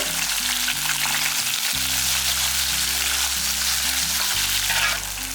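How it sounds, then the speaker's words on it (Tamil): Onions and about ten cloves of garlic fry in a pan, producing a loud, continuous crackling sizzle that fills the clip without pause. "இது நல்லா வதங்கிட்டு இருக்கும்போது இதில் ஒரு 10 பல்லு பூண்டையும் போட்டுடலாம்."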